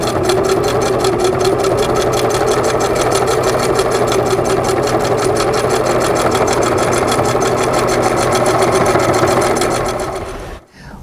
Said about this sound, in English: Continue sewing down the other side.